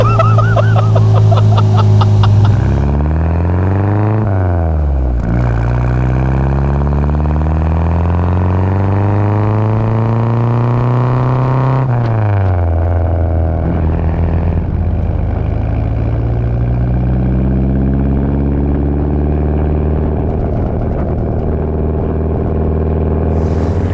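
A 1959 MG MGA 1600 sports car engine pulls steadily while driving, its drone rising and falling through several gear changes. The sound is loud and sustained from inside the car, with no voices.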